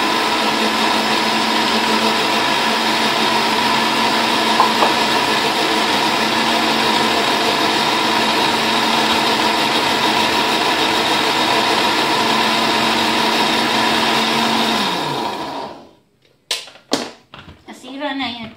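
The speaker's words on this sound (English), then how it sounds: "So, gamit na lang natin blender." A blender whirs loudly and steadily while mixing orange cake batter, running continuously for about fifteen seconds before cutting off, followed by a few clattering knocks.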